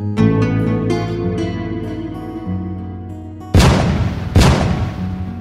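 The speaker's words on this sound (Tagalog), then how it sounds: "Hanggang sa dalawang magkasunod na putok na tuloy ang umalingaw-ngaw" Two loud gunshots in quick succession ring out over dramatic background music, each blast sharp and booming with a short echoing decay.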